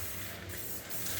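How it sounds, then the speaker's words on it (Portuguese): Colorgin automotive spray paint hisses steadily from an aerosol can during bodywork on a 1978 Chevrolet C10, a continuous close spray lasting the whole moment with no voices. "Um spray automotivo da Colorgin dá uma sombra"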